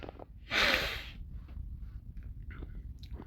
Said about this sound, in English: excuse me for my nose clogging up for some reason